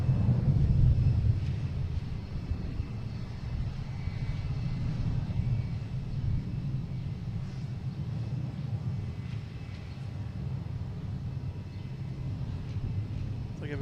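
A Delta Boeing 737-800 at Boston Logan airport produces a broad, steady jet roar, loudest at the start and then holding as a continuous distant rumble throughout, with no speech present.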